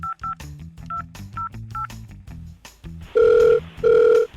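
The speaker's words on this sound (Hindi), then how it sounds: "फ़ोन मिलाओ" Telephone keypad tones beep in quick pairs and short runs as a number is punched in, followed by two longer, louder steady tones near the end, with a low murmur underneath.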